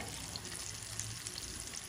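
Chicken pieces frying in hot oil, giving a close, continuous crackling sizzle with fine popping and no voices.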